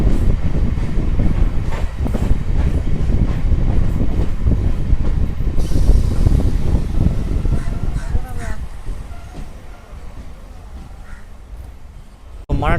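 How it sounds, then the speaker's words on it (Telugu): Renigunta–Nellore MEMU passenger train pulling out of Yellakaru station, a loud rumbling, clattering roll of wagons that gradually fades and thins out over about twelve seconds, with voices and station noise mixed in. "మన ట్రైన్ వచ్చేసి ఎల్లకారు నుంచి అయితే బయలుదేరిపోయింది"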